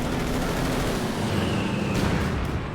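A strafing run in a 1v1 cup match of a video game: a dense, loud, continuous barrage of rattling gunfire that roars without a break, with no talk over it.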